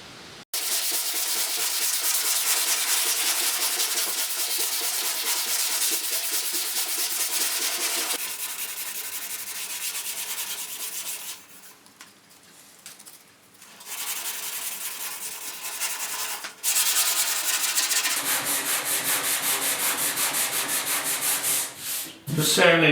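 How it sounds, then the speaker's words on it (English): Continuous hand sanding of spot glaze putty on a 1956 Ford pickup door, a steady abrasive rasping with brief pauses and changes in stroke, fairly close. "Just sanding the spot glaze there for the pinholes"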